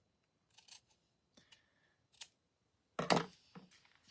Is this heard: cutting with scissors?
yes